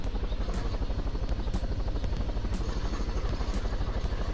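Helicopter in a video game with a steady, loud rotor drone and low engine hum, plus a regular whooshing blade pulse about once per second, heard alone with no talk.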